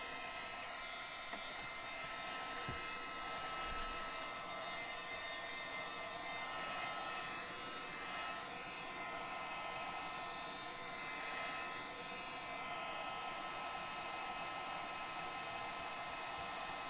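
Hair dryer blowing on wet paint on an art canvas, a continuous steady whirring hum held alone at moderate level for the whole stretch.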